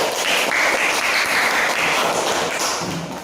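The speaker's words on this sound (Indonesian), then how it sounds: "Bagus, tepuk tangan." Classroom applause from a group of pupils, a brisk burst of clapping that is loud at first and thins out toward the end.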